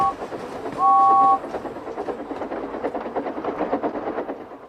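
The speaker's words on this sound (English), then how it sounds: "So steam engines blow their whistles." A brief, high two-tone steam engine whistle sounds once over the rhythmic clatter of a moving train.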